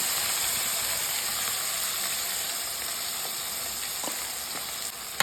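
Ground tomato paste fries in hot oil in a wide cooking pot, giving a steady, close hiss of sizzling and spitting with a few faint clicks near the end, with no voices.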